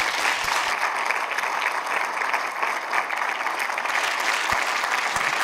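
Cinema audience at a preview screening in Pontcharra applauding Théo, steady dense clapping with a few sharp louder claps near the end.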